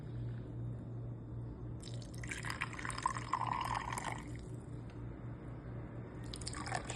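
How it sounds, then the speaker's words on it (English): Hot water poured gently into a shallow roasting pan holding a seasoned holiday pork roast, a soft splashing trickle that swells in the middle and returns briefly near the end, close and quiet over a low steady hum. "I use hot water, and you don't pour it on because you don't want to knock off all the seasonings."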